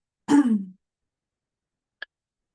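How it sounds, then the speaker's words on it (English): A single throat clearing, close and fairly loud, followed after a pause by one faint short click. "just need to clear my throat once again."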